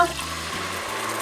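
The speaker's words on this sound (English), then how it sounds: "Now we're going to add some water" Water pours into the pot of a Tefal Cook4Me multicooker while rice pudding is being made, a steady close splashing fill lasting a little over a second with no talk.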